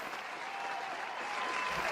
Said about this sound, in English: Let me hit the round of applause like you asked.